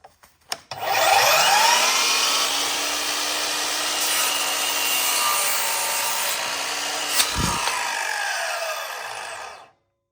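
A saw blade cuts steadily through a wooden shelf board for about nine seconds, a loud continuous whine and rasp with a brief clatter near the end before it stops, and no talking.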